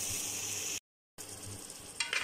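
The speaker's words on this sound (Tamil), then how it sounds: "அந்த மஷ்ரூம் எல்லாத்தையும் போட்டுட்டு அது ஒரு பிறட்டு பிறட்டுவோம்." Mushrooms being stirred and fried in masala for a mushroom biryani crackle with a close, steady sizzle, broken by a short silent gap, then resume with scraping stir sounds near the end.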